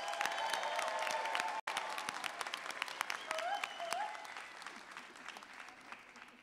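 Sustained applause from a commencement audience at a college graduation ceremony, honoring graduates' family and friends; steady dense clapping throughout, with a brief dropout near the start and a gradual fade toward the end.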